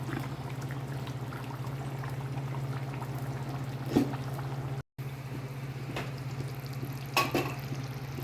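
Catla fish curry bubbles and simmers in a pot with a low, steady boiling murmur and a couple of soft splashes or knocks, close and quiet, no voices.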